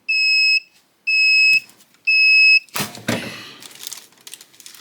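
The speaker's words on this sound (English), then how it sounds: "when it beeps, I'm gonna open it and rotate it" A tumbler sublimation heat press beeps when its cycle ends: three loud, steady electronic tones with short gaps between them, followed by rustling and handling noise as the press is opened.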